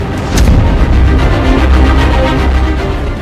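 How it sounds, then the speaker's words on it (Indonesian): Dutch warships firing their guns at sea as a sound effect, with a loud, continuous rumbling roar and a sharp burst near the start, with no speech. "kapal-kapal perang Belanda mulai melepaskan tembakan ke arah formasi Satuan Tugas Khusus 9"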